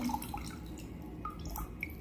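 Soft, irregular drips of water falling from a soaked sanitary pad, a few small close splashes over a quiet background with no speech.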